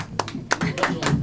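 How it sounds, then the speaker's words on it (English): An audience at a live comedy show in a lounge claps in a few sharp, uneven bursts, short and close, mixed with some talking. "Everybody stop your clapping."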